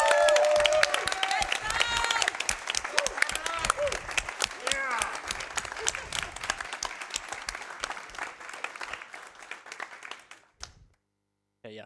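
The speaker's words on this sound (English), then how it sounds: "Can we get a round of applause for Pennek?" Audience applause and clapping at a blindfolded Elden Ring speedrun event, loud and continuous with talk over it, fading out to near silence at the end.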